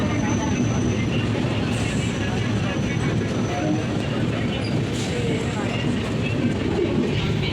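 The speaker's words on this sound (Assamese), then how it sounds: "একেটা ষ্টেচনতে লোকেল ট্ৰেইনো যাই আছে আৰু মেইন ট্ৰেইনো যাই আছে" Trains roll through a busy railway station, a dense, continuous rumble and rail noise that stays loud throughout, with faint bird calls and voices in the background.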